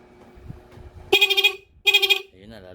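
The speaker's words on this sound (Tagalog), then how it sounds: "Busina tayo." Two short, loud horn blasts from a Suzuki Smash 115 motorcycle with a faulty battery, each a bright buzzy honk with a quick stutter, separated by a brief pause, close by.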